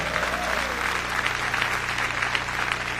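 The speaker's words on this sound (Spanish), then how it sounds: "Dele fuerte ese aplauso al Señor." Audience applause at a church testimony service, steady dense clapping from a crowd throughout, fairly loud and close with no talk over it.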